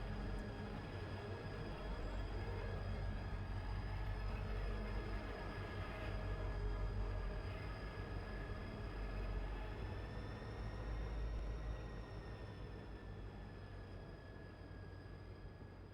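A diesel SD40-2 locomotive in a train video game drones steadily with a deep engine rumble and a high whining tone, loud and continuous, easing off slightly near the end.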